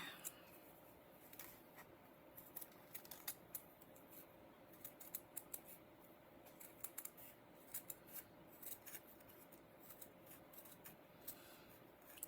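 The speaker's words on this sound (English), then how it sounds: "I'm going to get my fabric scissors for this one. And then we'll cut the ears out." Fabric scissors snip through fabric while cutting out bunny ear shapes, a steady run of quiet, close crisp snips with small rustles between them, no talk over them.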